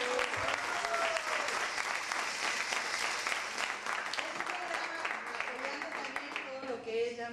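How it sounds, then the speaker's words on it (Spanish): An audience at a Mexican variety show claps steadily and loudly for an honoured guest, with music and an announcer's voice running underneath the applause. "Fuerte el aplauso para el señor."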